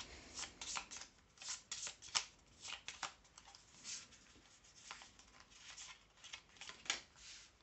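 Tarot cards are shuffled by hand in a rapid, steady run of crisp riffling flicks, close and fairly quiet, with no voices.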